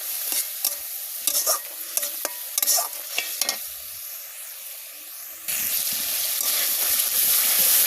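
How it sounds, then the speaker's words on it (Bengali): Chili powder and turmeric sautéing in an oil-filled pan, with a spatula scraping and stirring in sharp repeated strokes over steady sizzling that swells into a louder continuous fry near the end. "এখন ভালোভাবে মশলাগুলো কষিয়ে নিব"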